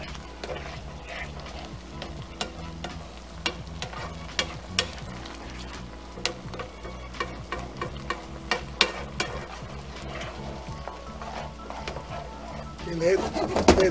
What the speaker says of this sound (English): let this go for about 3 minutes. Make sure we cook all the alcohol out